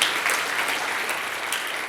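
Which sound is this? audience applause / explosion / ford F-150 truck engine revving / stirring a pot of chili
audience applause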